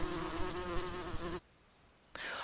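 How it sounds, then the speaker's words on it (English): A bee buzzes loudly and steadily up close, then stops abruptly, leaving a brief near-silent gap before a fainter burst of buzzing returns. "hearing a buzzing sound and perception as recognizing it as a bee"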